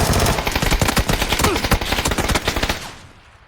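A Vector submachine gun fires in a battle royale video game, a fast, dense rattle of rapid shots in close bursts that fades out at the end, with no talk over it.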